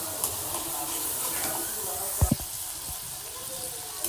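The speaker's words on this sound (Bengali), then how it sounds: "এবার এগুলোর মধ্যে আমি পুঁটি মাছগুলো দিয়ে" Puti fish dropped into spices already fried in a pan, a soft steady sizzle and hiss throughout with a couple of brief clunks midway, fairly quiet.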